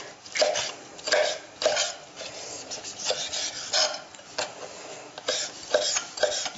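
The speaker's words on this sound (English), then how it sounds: "So just one beautiful vine-ripened tomato. So I'm just going to roughly dice that up." Knife roughly dicing juicy vine-ripened tomatoes on a board, a steady run of soft, close chopping strokes and cuts with no talking.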